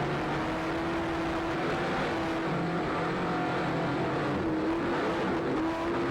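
A 40-foot Jaguar offshore racing powerboat with twin 850-horsepower Mercury engines roars continuously at speed, a steady loud engine drone with a wavering tone and broadband rush throughout.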